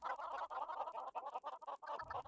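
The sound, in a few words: chickens clucking on a chicken farm in video game DawnCraft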